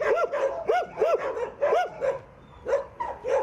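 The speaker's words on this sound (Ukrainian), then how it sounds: "Спочатку гавкають, а потім ластяться." Dogs at an animal shelter bark loudly and repeatedly in short bursts, close to the microphone, with a brief pause before the barking resumes.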